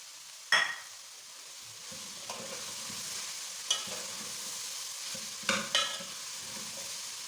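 Shredded chicken being stirred into masala in a frying pan, with a steady soft sizzle under several sharp scraping clacks of a spoon against the pan, spaced irregularly, close and moderately loud.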